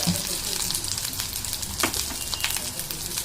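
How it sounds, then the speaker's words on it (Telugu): Ginger garlic paste and cooked chicken sizzle in a pan for chicken rolls, a close, steady frying hiss with a few brief stirring scrapes. "అల్లం వెల్లుల్లి పేస్ట్ వేగిందండి"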